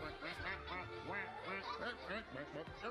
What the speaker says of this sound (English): That sounds like a cross between a robot and a duck.